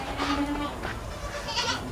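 Sojat-breed goats bleating in a farm pen, a couple of close, wavering bleats over a dull outdoor background with faint voices.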